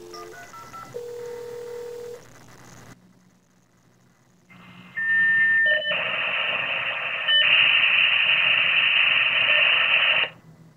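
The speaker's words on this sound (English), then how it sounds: "fire up this semi-period-appropriate modem and terminal emulator, dial into one of my servers" A period modem dials into a server from a terminal emulator. A string of DTMF tones and a pause lead into a loud, sustained screech of handshake squeals and warbling carrier noise that ends abruptly.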